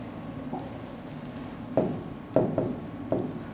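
Marker or chalk strokes on a board during a calculus lesson, a few short sharp taps and squeaks over steady room hiss, close and moderately loud.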